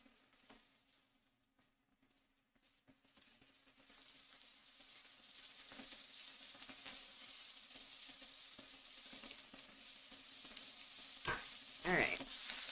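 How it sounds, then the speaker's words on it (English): Garlic fries in olive oil while being stirred constantly; after a quiet start the sizzle swells into a steady hiss, dotted with utensil scrapes and a few louder knocks near the end. "Now that the garlic is in, I'm going to stir it constantly because I don't want the garlic to burn"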